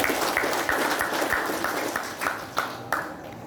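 Audience clapping hands at a thanksgiving gathering, a moderate round of applause with a few sharper claps standing out as it tapers off.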